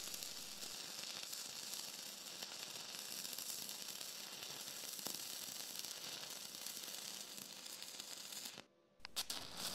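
Stick welding with a 6011 electrode, held with a long arc, gives off a continuous crackling sizzle at a fairly low level, with a brief break near the end. No one speaks.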